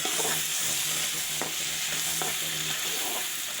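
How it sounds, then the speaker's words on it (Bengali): Green chili, onion and tomato frying in oil, a steady close sizzle with faint stirring scrapes and a few spoon knocks against the pan. "ওই সেম তেলে কাঁচামরিচ, পেঁয়াজ, টমেটো কুচিকে একটু ভেজে নিয়ে"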